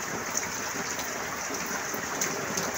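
Heavy rain from Typhoon Verbena pours steadily over a flooding yard beside a house, a dense constant hiss with scattered drop taps throughout.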